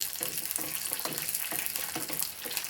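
Cashews and raisins fry in ghee in a pot for temple-style payasa, a steady close sizzle with soft stirring scrapes throughout.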